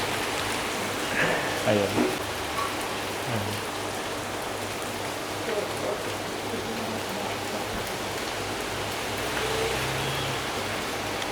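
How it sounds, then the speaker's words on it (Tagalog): Heavy rain falling in Omis, Croatia, a dense constant wash of close downpour hiss with brief speech near the start and faint scattered sounds underneath. "Grabe yung ulan, nakakaloka."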